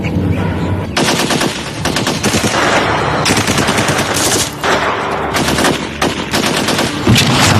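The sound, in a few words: gunfire in a film, police shooting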